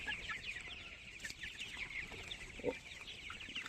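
Young tiger chickens about 28 days old cluck and peep in a lively flock, with many short overlapping calls at moderate distance and a slightly louder call near the end.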